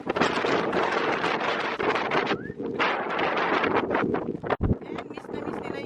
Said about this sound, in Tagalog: Dadalhin ka ng hangin.